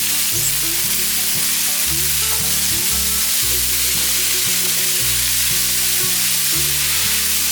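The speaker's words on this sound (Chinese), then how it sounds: "放入高丽菜， 快速的拌炒" Cabbage and mushrooms sizzle loudly and continuously in a wok as they are stir-fried quickly, with a dense hiss and a steady low tonal hum underneath.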